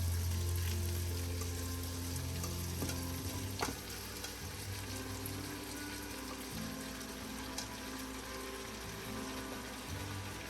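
Bok choy hits a hot pan with beef steak and fries in a loud, steady sizzle that carries throughout, with occasional small clatters of stirring and no talking.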